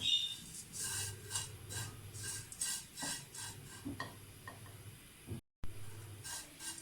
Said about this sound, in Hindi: थोड़ी सी और बुनाई करूँगी मैं।